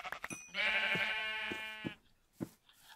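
A sheep in a video game lets out one long, clear wavering bleat, followed by a few faint clicks and soft game sounds, with no talking.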